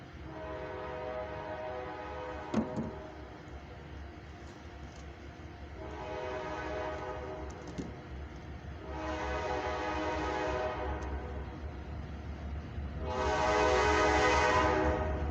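A CFE mixed freight train passes at night heading eastbound, its horn sounding in several long blasts that grow louder as it approaches over a steady low rumble of the rails.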